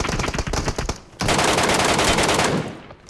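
MK14 rifle gunfire in the mobile battle royale game BGMI: loud rapid bursts of shots, a short pause, then a longer sustained burst that tails off, close and with no voices.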